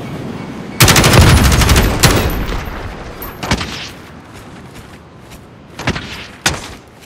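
Loud sustained machine gun bursts in Call of Duty Modern Warfare team deathmatch, a long rattling volley followed by scattered single cracks and short bursts at varying distances.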